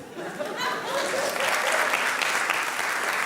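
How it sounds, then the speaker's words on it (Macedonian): Sustained, dense applause from a stand-up comedy festival audience in Macedonia, steady and loud throughout with a scattering of cheers, no speech over it. "нека имат аплауз"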